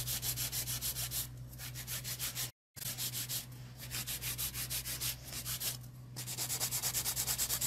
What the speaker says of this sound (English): So right now I'm using a 150 grit file,